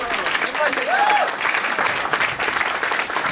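Audience applause at a Janmashtami celebration: sustained, dense clapping from a crowd filling the whole moment, with a whistle-like tone rising briefly above the clatter.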